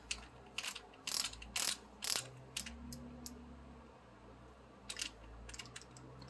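Ratchet clicks from a torque wrench tightening 14mm nuts on the front suspension of a 1991 Toyota MR2 during assembly, several short bursts of clicking close by, with quieter pauses between strokes.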